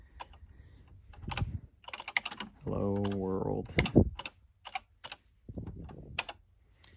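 Keys clatter on an Atari 8-bit computer keyboard with a faulty spacebar, quick irregular clicks heard close up, interrupted by a short electronic tone and someone talking over parts of the typing.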